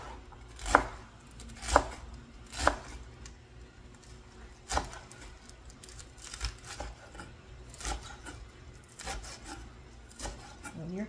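A knife chopping lettuce on a cutting board in a home kitchen, with a few sharp, loud cuts early on, followed by softer, irregular chopping and rubbing sounds.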